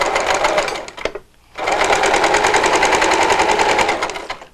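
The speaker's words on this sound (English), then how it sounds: "I'm going to catch it with the sewing" A sewing machine stitches elastic onto a face mask in fast, loud, rapid bursts, pausing briefly once before running steadily again.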